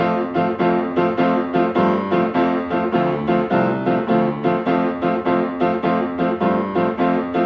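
Piano alone plays the chorus of a song, with steady rhythmic chords, close and full, sustained with no voices.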